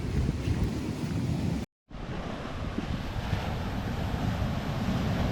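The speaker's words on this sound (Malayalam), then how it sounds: "അവിടെയൊക്കെ നല്ലപോലെ തന്നെ കടൽ അടിച്ച് കയറിക്കൊണ്ടിരിക്കട്ടോ" Heavy sea surf surges onto an eroding coastal shore, a continuous loud roar mixed with buffeting wind noise on the microphone and one brief dropout.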